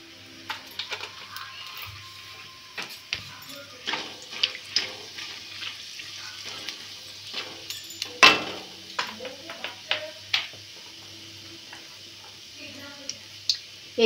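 Cumin seeds and a pinch of asafoetida tempering in hot oil for sabudana khichdi, with a soft, steady hiss broken by scattered crackles and sharp pops.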